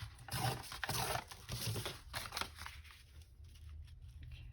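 Paper torn by hand while making a junk journal, a few close, dry ripping bursts in quick succession that thin out toward the end, no voices.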